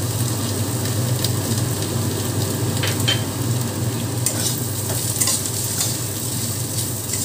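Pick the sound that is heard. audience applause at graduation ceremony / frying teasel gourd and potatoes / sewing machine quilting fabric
frying teasel gourd and potatoes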